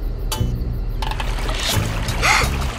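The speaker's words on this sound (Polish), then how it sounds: "Tutaj słyszę strumień." A stream in a children's animated night scene flows in a soft, steady watery wash, with several brief splashy accents layered over it and no talking.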